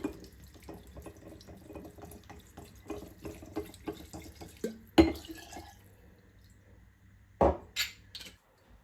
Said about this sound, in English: now add 3 glasses of water and then 3 glasses of spirit